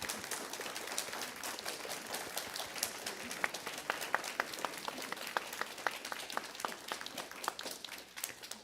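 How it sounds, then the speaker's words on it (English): A church congregation applauds at a Unitarian Universalist Sunday service, dense clapping from many hands that sharpens into distinct individual claps midway and tapers off toward the end. "Let's have a round of applause"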